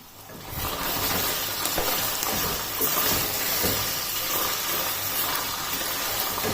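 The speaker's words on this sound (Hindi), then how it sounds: "अब इस कीमे को ऑयल में अच्छा खासा फ्राई कर लेना है" Minced meat frying in hot oil, a loud continuous sizzling hiss that surges at the start and stays steady, close up with no talking.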